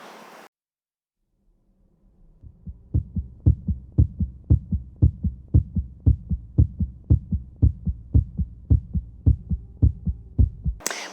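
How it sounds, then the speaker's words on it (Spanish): Steady human heartbeat, a regular run of about twenty deep, thumping pulses in double-beat rhythm, close and loud, starting after a short near-silent gap. "Es un corazón, es el latido de un corazón."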